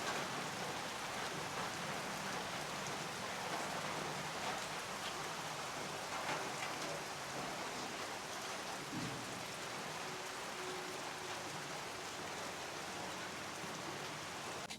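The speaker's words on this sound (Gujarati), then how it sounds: "અત્યારે અહીંયા ફૂલ વરસાદ પણ આવી રહ્યો છે" Steady heavy monsoon rainfall hisses continuously at an even level at Janaki Van, Vansda, Gujarat, a dense wash of drops falling on surfaces with no talking.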